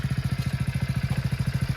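A motorbike ridden slowly nearby, its engine giving a steady, close, low throbbing putter with regular rapid pulses and a light mechanical clatter.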